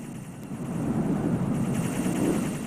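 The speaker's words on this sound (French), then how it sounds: "Vous l'entendez comme moi, il y a des drones." Drones hover overhead in the Metal Gear Solid 2 video game, a steady whirring engine drone with a pulsing rotor-like beat that swells slightly and holds, alone without speech.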